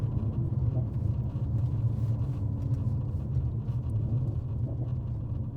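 Mercedes C43 with a resonator delete, its exhaust droning in a steady, loud low rumble, the engine held at a constant note with no speech over it.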